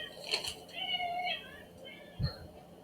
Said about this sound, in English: My cats are insane.